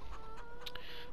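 Farm chickens in the Farming Simulator 22 video game cluck in a few quick, close bursts over a faint steady hum.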